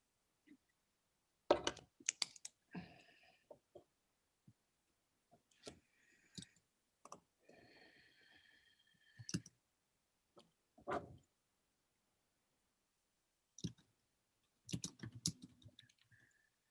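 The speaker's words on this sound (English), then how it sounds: "I'm still typing." Scattered keyboard clicks come in short irregular bursts with long silent gaps, faint and close, on a computer during an online team meeting; no talking.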